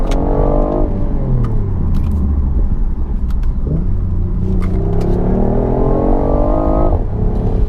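A 2018 BMW i8 coupe engine roars loudly, heard from inside the car, revving up, dropping back, then climbing again in a long, throaty acceleration.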